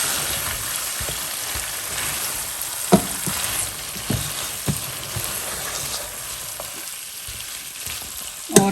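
Chopped onions frying in a pan for korma, with a steady crackling sizzle and several sharper pops and stirring clatters scattered through.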